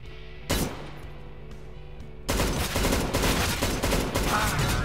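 Sustained automatic fire from an M249 machine gun in Counter-Strike: Global Offensive, a brief burst followed after a pause by a dense, loud stream of rapid shots with no talk over it.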